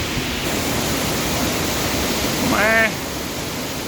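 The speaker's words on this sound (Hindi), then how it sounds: "देख सकते हैं कितनी ऊंचाई से ये पानी झरने का रूप ले रही है।" Bahubali waterfall at Handawada in Narayanpur pours as a steady, loud broadband rush of falling water that continues throughout, with a voice briefly heard over it near the end.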